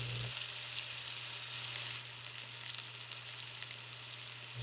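Steaks searing undisturbed in a pan, a steady close hiss of sizzling fat running throughout with a constant low hum beneath.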